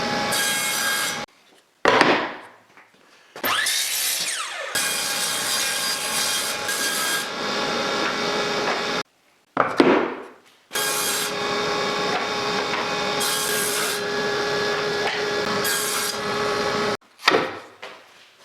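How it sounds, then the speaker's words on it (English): Several separate bursts of power sawing as wood strips are cut down into side, top and bottom pieces for small storage boxes, each cut a loud rasping roar with short silent gaps between, and no voices. "Then I cut the strips down to the individual pieces for the sides,"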